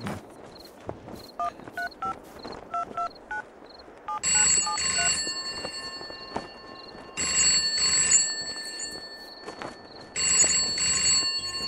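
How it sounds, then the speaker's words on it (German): An office telephone rings in long repeated bursts after a run of short dialing-like tones, three loud electronic ring phrases spaced evenly with quieter gaps between. "Ich glaube, da geht ein Telefon im Büro vorne"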